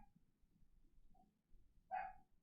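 Dogs bark faintly in the distance, a single short bark standing out near the end over quiet, low background noise.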